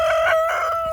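A backyard rooster crows once, loud and close, rising and then trailing off.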